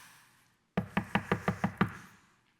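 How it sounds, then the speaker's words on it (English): Seven sharp, evenly spaced knocks on a door ring out clearly in a quick steady rhythm. Each one is loud and close, with a short decay, and a little background hiss fills the gaps. "Knock at the door."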